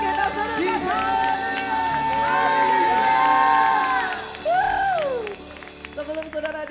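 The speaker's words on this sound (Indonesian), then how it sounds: "Dan kita beri tepuk tangan yang paling meriah buat Yesus Tuhan kita" A church congregation in Jakarta claps and cheers loudly for several seconds, with whoops and shouts rising over sustained applause before it fades.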